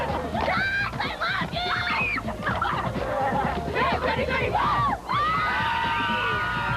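A concert crowd at a Popstars finale cheers, whoops and screams continuously for the judges, a dense roar of many high voices with overlapping shrieks and shouts, loud and close throughout.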